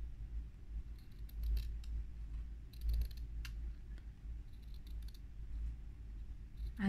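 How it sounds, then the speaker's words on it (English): Scissors snip around a small piece of fabric for handmade earring studs, a quiet run of soft clicking cuts repeating at an uneven pace, close up, with no voices. "Cut around it like we did before."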